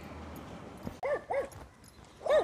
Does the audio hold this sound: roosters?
no